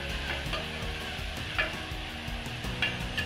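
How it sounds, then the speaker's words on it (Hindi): Sliced onions frying in a pan toward light golden brown for mutton korma, a steady close sizzle with occasional stirring scrapes and small clinks. "अच्छे से भूनते हुए प्याज को थोड़ा सा लाइट गोल्डन ब्राउन कर लेंगे।"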